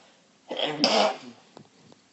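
A single sneeze bursts out close by, short and explosive, followed by a quiet breathy tail.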